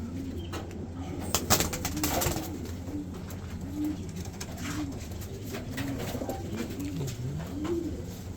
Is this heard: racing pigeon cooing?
yes